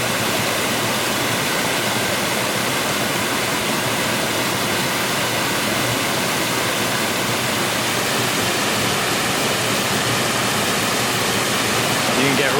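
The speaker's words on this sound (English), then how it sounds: "another waterfall, or really a nice little drop to it, about 3 to 4 meters, with a cascade leading to it here" Small waterfall near Niagara Falls, a cascade dropping about three to four meters, roars in a steady, loud, broadband rush heard up close from within the river.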